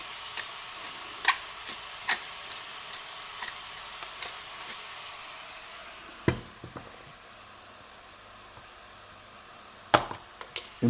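Salt-and-pepper-seasoned beef for lasagne sizzles quietly in a pan, broken by several sharp scraping clacks as it is pushed around, the louder knocks clustered near the end, without any speech.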